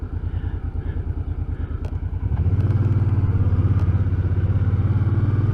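A motorcycle engine idles with a steady, lumpy pulse, then revs up and holds a loud, even drone, close and alone with no talk, on a ride from Prescott toward Mingus Mountain.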